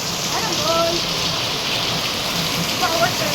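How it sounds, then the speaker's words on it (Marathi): Steady evening rain falling in Mumbai, a continuous broadband hiss of drops on surfaces throughout, with faint tonal sounds briefly rising over it. "पाऊस संध्याकाळच्या वेळेला परत स्टार्ट झालाय."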